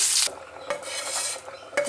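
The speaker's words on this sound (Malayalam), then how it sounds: "ഈ കറിവേപ്പില കൂടി ഇട്ടൊന്ന് ഇളക്കിയതിന് ശേഷം ഇത് കറിയിലേക്ക് ഒഴിച്ചു കൊടുക്കാം" Hot mustard and curry leaf tempering being stirred in a pan and poured into a winter melon curry, with metallic scraping clinks and a soft sizzle close by, no talk.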